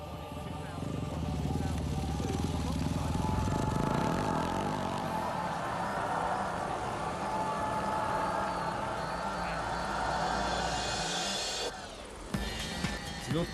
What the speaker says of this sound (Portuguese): O Jean Azevedo pilotando sua KTM